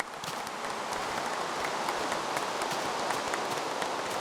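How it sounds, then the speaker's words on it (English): Rain pouring steadily, a dense continuous hiss of drops hitting surfaces with scattered sharper patters, fairly close and without any talk. "Look at this rain."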